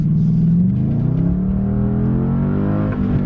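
A cheap Mercedes-AMG with a number of faults accelerates hard, its deep engine rising in pitch as it revs up, loud and close with a rough rumble.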